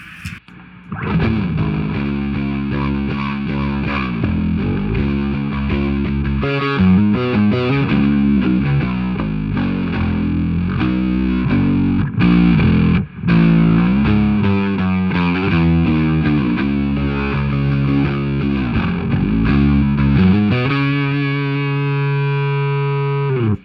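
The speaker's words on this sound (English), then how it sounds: "Here's what it sounds like with the Dark Glass and the Big Muff on." Rock bass guitar driven through a Dark Glass distortion pedal stacked with a Big Muff, a thick, fuzzy, loud riff of shifting sustained notes and short breaks, closing on a long ringing tone with no voices.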